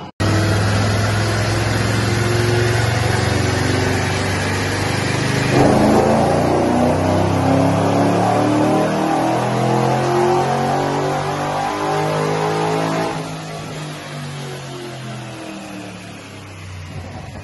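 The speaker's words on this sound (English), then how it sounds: "So we got it on the dyno now, Dusty's car." A Pontiac G8 engine with a cam and Kooks headers revs hard and steadily under load on a dyno, its pitch climbing and roaring loudly before easing off toward the end, with no talking.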